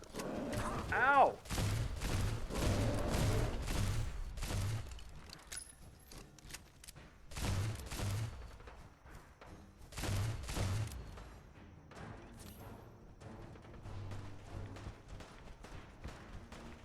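Repeated bursts of gunfire in the Fallout 4 video game, loud sustained volleys and scattered shots over about seventeen seconds, with a person's voice and exclamations mixed in.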